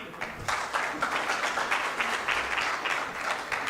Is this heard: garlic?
no